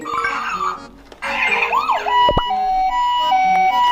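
A toy fire truck's electronic siren wails and then switches to a steady two-tone beeping, loud and close, with a brief sharp click midway.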